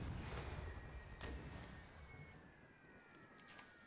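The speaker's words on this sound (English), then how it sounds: "So we're going to start bombarding them immediately here with a nice little bit of round of artillery" Artillery bombardment in the Napoleon Total War game, a few faint, distant booms rolling over a low rumbling battlefield wash, with no talking.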